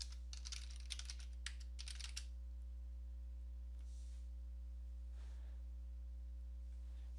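Brief burst of computer keyboard typing, a quick run of faint clicks over steady electrical hum, followed by near silence.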